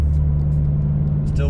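A 2015-or-later Subaru WRX with a Cobb Accessport Stage 1 tune drives along, its steady low engine drone and road rumble continuous throughout, with a brief higher whine near the end.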